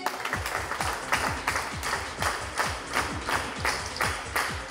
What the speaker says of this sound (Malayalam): നന്നായി ഒന്ന് ക്ലാപ്പ് ചെയ്തേ